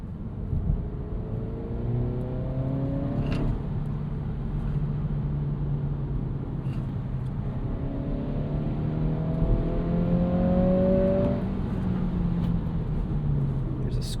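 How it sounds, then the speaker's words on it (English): A 2026 Acura Integra A-Spec in sport mode pulls hard from inside the cabin. The engine note climbs in two long rising sweeps over a steady road rumble. "Can I finally hit some corners? Let's go sport mode."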